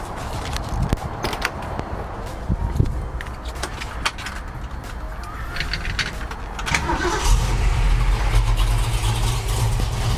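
A 1966 Ford Mustang with a built 302 V8 cranks and fires up nearby. It settles into a loud, rumbling, lumpy idle after some rattling and clicks beforehand.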